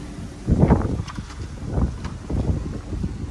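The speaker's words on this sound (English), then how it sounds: "excuse the wind, it's really starting to pick up here." Gusty outdoor wind buffets the microphone in surges near a parked 2013 Audi A6 Prestige in Quartz Gray Metallic, loud low rumbling bursts that rise and fall with no speech.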